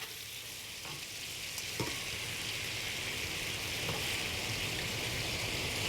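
Shrimp for sweet and sour shrimp sizzle steadily in a hot pan, a constant close crackle with a few faint clicks as they are turned.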